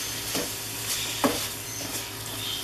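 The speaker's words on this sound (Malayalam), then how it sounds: "പഞ്ചസാര ഇട്ട് കൊടുത്ത ശേഷം നല്ല രീതിയിൽ വീണ്ടും സോട്ട് ചെയ്ത് കൊടുക്കണം" Carrot halwa with sugar sautéing in a pan: a soft, continuous sizzle with gentle stirring scrapes and one sharper knock of the spoon near the middle, close by and without speech.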